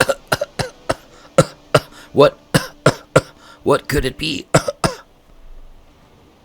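A run of harsh coughs comes in quick, uneven succession, close and loud, followed by a short spoken question.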